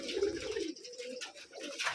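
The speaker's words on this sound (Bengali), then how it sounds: "দেখুন উপরে আরো কবুতর উঠছে, দেখুন" Pigeons coo continuously at a Rajshahi pigeon farm, a low steady murmur of overlapping calls from a flock of about sixty birds, moderately close and with no talk over it.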